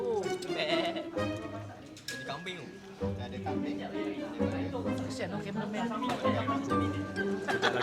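A goat bleats a few times outdoors at a survival camp, fairly close, mixed in with people chatting nearby.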